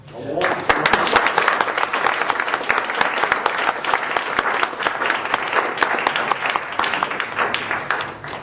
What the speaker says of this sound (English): I would invite you to give him a round of applause.